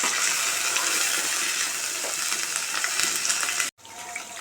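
Onion and green chillies fry in hot oil for a vankaya masala curry, a dense, loud sizzle with crackling and faint stirring that runs steadily, then cuts out briefly near the end before resuming more quietly.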